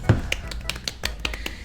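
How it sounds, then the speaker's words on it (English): A sparse, quiet golf clap: a handful of light, separate claps or snaps spaced irregularly over a second and a half, close and soft. "Golf clap."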